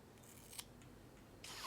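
Scissors snipping through a man's hair during an at-home haircut, with a few faint, quiet snips spread across a near-silent moment.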